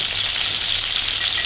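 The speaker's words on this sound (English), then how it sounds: "once you hear the frying start" Meatballs fry in a pan with a steady, dense, close sizzle that holds evenly throughout, loud and alone.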